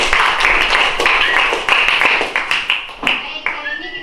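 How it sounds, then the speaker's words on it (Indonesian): A classroom full of students applauds a student group, with brisk overlapping claps at a steady pace that thin out into a few scattered claps toward the end. "mari kita beri aplaus dulu untuk kelompok"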